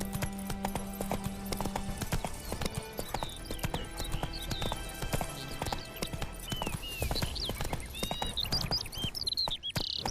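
Hooves of Geralt's horse Roach in The Witcher 3: Wild Hunt clopping in a steady rapid rhythm under game music, with a brief whinny, no talk.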